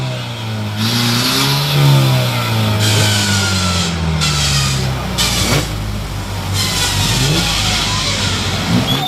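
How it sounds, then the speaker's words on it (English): Van engines rev hard at a destruction derby at Bovingdon Raceway, loud and close, with rising and falling pitch as the motors strain and surge throughout, alongside faint background commentary. "So Sonny Sherwood then determined not to give up on this one, and the van gets going once again"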